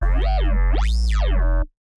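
An FM bass patch synthesized in Phase Plant without multiband OTT compression: a single loud, buzzy tone with a swooping, wobbling pitch sweep up and back down, ending abruptly after about a second and a half.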